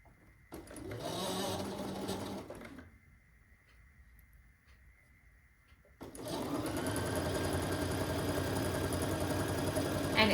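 Sewing machine stitching quilt pieces, with a short burst of steady whirring, a quieter pause, then a long, even, continuous run close to the microphone.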